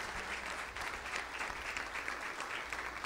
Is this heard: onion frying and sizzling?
no